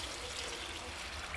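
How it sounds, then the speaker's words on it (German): Stock pours into a Dutch oven for a potato and savoy cabbage stew, a soft steady liquid splash and trickle that is fairly faint, with no talking. "Jetzt geben wir unseren Fond dazu."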